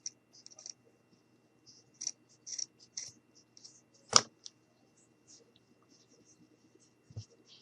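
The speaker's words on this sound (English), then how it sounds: "And then I'm going to go ahead and cut on the sides." Quiet scissor snips trim felt-like craft pieces for a hot air balloon quiet book page, with scattered soft cuts and one sharper clack midway, in a near-silent room.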